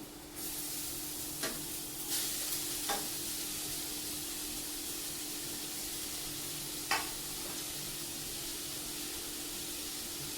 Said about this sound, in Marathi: आता तसाच कांदा टाकत आहे. हे 2 कांदे बारीक कापून घेतलेले.